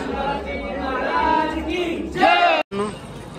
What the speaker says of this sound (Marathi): भरपूर गर्दी आतमध्ये